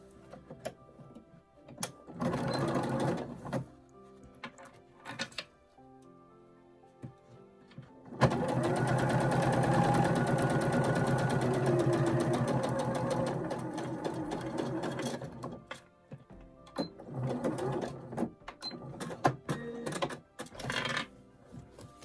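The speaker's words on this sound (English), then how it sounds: "that's where we're going to start stitching" A sewing machine stitches the seam of a fabric bowl in a long, steady run of close mechanical whirring. Short bursts come before and after it, separated by pauses, and no one talks.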